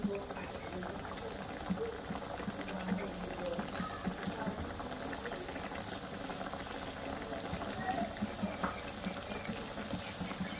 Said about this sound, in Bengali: এবার আমি মিষ্টিগুলো তেলের মধ্যে দিয়ে দেব, দিয়ে ভাজা করে নেব